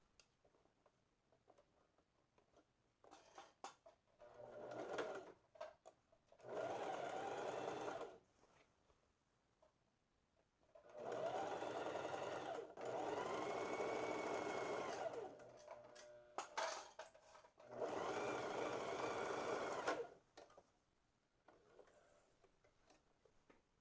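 A sewing machine stitches a seam on a blouse with a mandarin sleeve and clerical collar, running in several steady whirring bursts of a few seconds each, separated by quiet pauses with soft handling noises and faint ticks.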